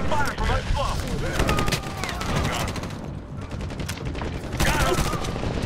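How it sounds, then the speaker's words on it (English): Dense, rapid gunfire in the video game Medal of Honor (2010), with continuous automatic bursts and overlapping shots while voices shout through the combat. "We're taking fire from that smoke!"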